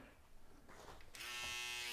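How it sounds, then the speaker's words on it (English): Panasonic electric shaver starts partway through and then runs as a loud, steady buzz with bright harmonics. Quieter background noise comes before it. "It's the Panasonic shaver, so we'll see."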